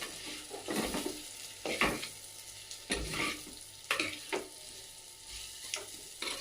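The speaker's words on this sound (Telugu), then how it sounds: "ఇది 2 మంచిగా కొద్దిగా ఫ్రై అయ్యే విధంగా కలుపుకుందాం" Fried bitter gourd sizzles in a clay pot while being stirred, with steady frying hiss broken by repeated scraping strokes and light clinks of the spoon against the pot, close and fairly soft.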